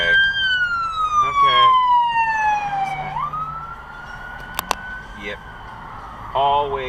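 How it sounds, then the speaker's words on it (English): An ambulance siren wails in traffic, a loud sweeping tone that slides down, then holds steady and fades under the drone of road noise, with a brief voice and a couple of short knocks. "Stop tailgating a fucking ambulance."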